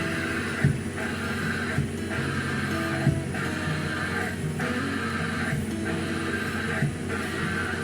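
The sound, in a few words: abnormal noise from pressed car clutch pedal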